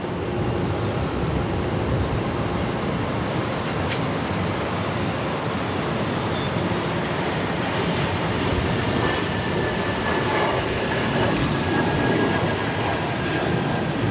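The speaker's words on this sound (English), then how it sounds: "This is JetBlue Airways 1037 taking off to Detroit on the A220-300." A JetBlue Airbus A220-300 rolls for takeoff at Boston Logan, a loud, steady jet engine roar with broad rumbling noise holding constant throughout.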